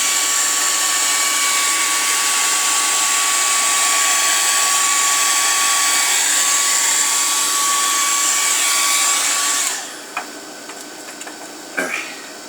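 A hair dryer runs loudly with a steady whooshing airflow and a faint tonal whine, then cuts off near the end, leaving a quieter room with a few small clicks and knocks.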